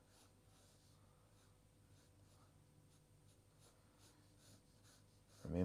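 A pen traces a Māori koru curl pattern on paper, a faint, soft scratching of strokes over quiet room noise, ending in a brief louder bump.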